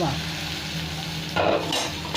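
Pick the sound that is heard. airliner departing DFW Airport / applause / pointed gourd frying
pointed gourd frying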